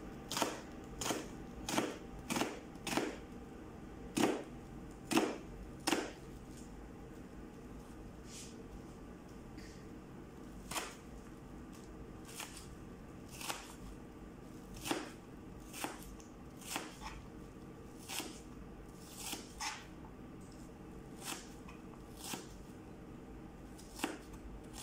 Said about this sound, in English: Tapos, hiwain natin itong white onions.